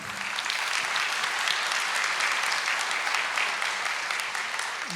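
A crowd at a political party meeting gives a full round of applause, a dense, sustained wash of clapping that holds at a loud, even level from start to finish.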